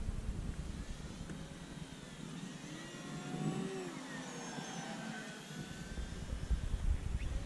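An RC aerobatic model airplane flies overhead with a thin, fluctuating motor whine that rises and falls as it maneuvers, heard over outdoor background noise.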